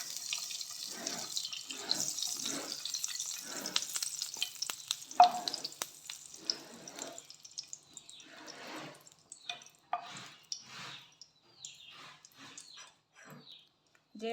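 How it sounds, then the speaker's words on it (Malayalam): Ghee poured into a hot kadai crackles and sizzles with a bright hiss at first, then settles into intermittent spattering bursts over the following seconds, close and moderately loud, with no talking. "ഈ കടായിലേക്ക് ഒരു അല്പം നെയ്യ് ഞാൻ ഒഴിച്ച് കൊടുക്കുന്നു."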